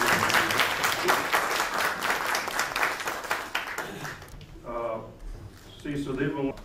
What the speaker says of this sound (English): let's give a big round of applause to Shri Arun Jaitley